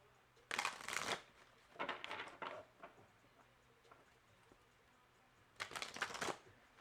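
Two bursts of tarot card shuffling, a riffle near the start and another near the end, with softer handling of the cards in between.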